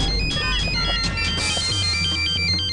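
A phone ringtone plays a bright electronic melody of repeating beeping notes, steady and clear against a low background hum.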